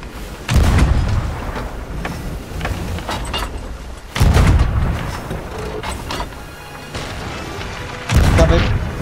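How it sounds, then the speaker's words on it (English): Ship cannons boom in the pirate video game Sea of Thieves, three heavy blasts spaced a few seconds apart with rumbling tails, while players talk in between. "Prepared for cannon fire."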